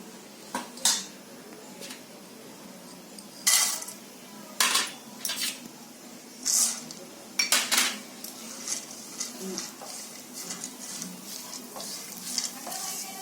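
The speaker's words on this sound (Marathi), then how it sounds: "थोडं थोडं घी टाकून आहे ना हे सगळं ड्रायफ्रूट आहे ना थोडं थोडं भाजून घ्यायचं" Dry fruits roast in ghee in a pan for a karanji filling, with repeated sharp clinks and scrapes of a spoon against the pan over a faint sizzle, close and intermittent, no talking.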